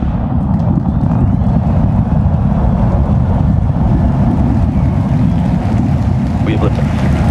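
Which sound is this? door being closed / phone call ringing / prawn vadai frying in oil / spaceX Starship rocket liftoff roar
spaceX Starship rocket liftoff roar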